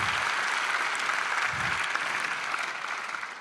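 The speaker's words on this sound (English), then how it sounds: "Anyone wants a round of applause before we applaud our special guests?" A crowd at an academic year opening ceremony claps together in a steady, full burst of applause that fades slightly toward the end, with no speech over it.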